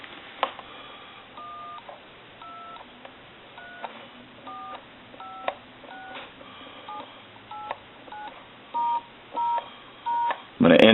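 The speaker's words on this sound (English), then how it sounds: "we're going to dial some numbers here" DTMF tone dialing on a repaired Western Electric 317 wooden wall crank telephone, a steady sequence of short beeping tone pairs spaced unevenly, ending with several longer louder tones and a click.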